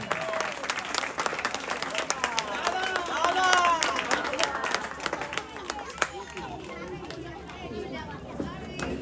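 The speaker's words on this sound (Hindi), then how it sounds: "जरा तालियां हो जाए बच्चियों के लिए जोर से।" Loud, sustained audience applause with cheering and crowd chatter for the winning schoolgirls' team at an annual school function, steady clapping throughout with some voices mixed in.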